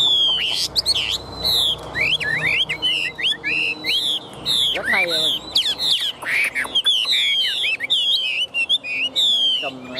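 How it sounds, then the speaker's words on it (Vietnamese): A tame Chinese hwamei songbird sings up close from a hand-held cage, pouring out a busy run of loud whistles, trills and chirps almost nonstop, with a few quieter gaps and faint background noise. "Chim trên tay nó hót ngay trước mặt mình nhìn rất là thích các bạn."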